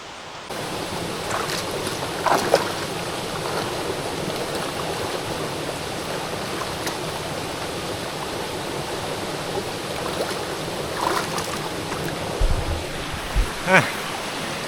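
A waterfall roars in a steady, dense rush of water that holds at the same level from start to finish, with a few faint knocks and rustles near the microphone.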